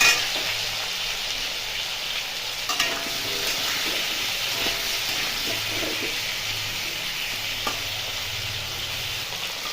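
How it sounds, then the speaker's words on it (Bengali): Potatoes fry in oil with turmeric and salt, giving a steady, moderately loud sizzle with occasional soft stirring scrapes and no voices. "আলুকে একটু হলুদ আর একটু লবণ দিয়ে আলুকে ভেজে নেবো।"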